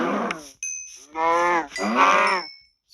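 Several drawn-out, nasal mooshroom cow moos from Minecraft, with short pauses between calls and a faint electronic tone in the background.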